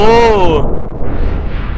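A battleship blows up in the physics sandbox game People's Playground, a short rumbling boom that follows a voice and decays into low crackling debris.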